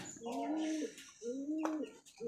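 A high-flyer pigeon coos twice in soft, rounded phrases, close by and fairly quiet, with faint bird chirps and background noise.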